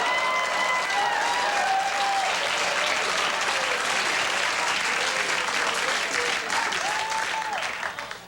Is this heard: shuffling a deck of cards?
no